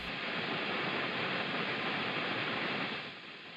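Steady hiss of stacked overdrive and distortion at high gain on an AXE MX300 guitar multi-effects unit, a constant broadband noise floor with no playing, held evenly and then dropping slightly near the end.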